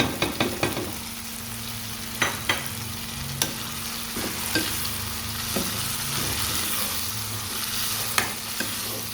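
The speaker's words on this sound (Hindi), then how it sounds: "अब इस मसाले को मिक्स कर लेंगे, चूल्हा हल्का कर देंगे और इसको 5 से 7 मिनट तक पका लेंगे" Tomatoes with cumin, chaat masala, crushed chilli, turmeric and salt fry in a pan while being stirred, giving a steady close sizzle punctuated by scattered clicks and scrapes of the spoon, with no voices.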